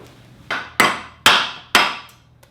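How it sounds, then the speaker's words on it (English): Four sharp metal hammer blows hit a stuck part on a Ducati Monster 1100 motorcycle, close and loud. Each strike rings and fades quickly, spaced roughly half a second apart, with no talking. "Maybe actual hammer."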